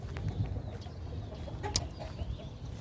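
Chickens cluck quietly in the background amid low ambient noise on a farm, with a brief sharp sound near the middle.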